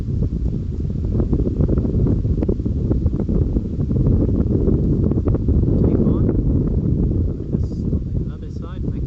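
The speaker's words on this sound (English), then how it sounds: "Look, the wind's blowing my camera, it's very windy." Steady low rumbling wind buffets the microphone for the whole stretch, loud and close, with no clear voices.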